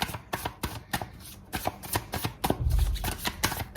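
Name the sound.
tarot cards being shuffled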